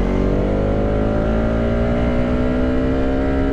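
A motorbike carrying a rider and a passenger accelerating up to speed, its engine note climbing steadily and continuously, loud and close, with no voices.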